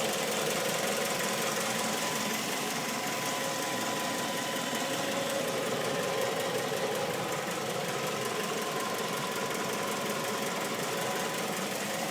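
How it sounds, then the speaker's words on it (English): A Mazda 3 engine idles steadily with a faint ticking under the even hum, close and constant with no speech. "I'll shut up so you guys can listen to my engine."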